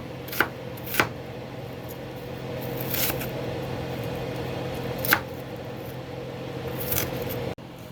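A knife chops an onion on a cutting board, giving a handful of sparse, separate close knocks over a faint steady background hum.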